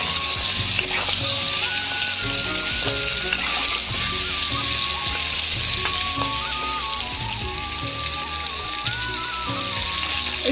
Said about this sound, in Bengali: পটল কাটাটা হালকা ভেজে নেবো ভালো করে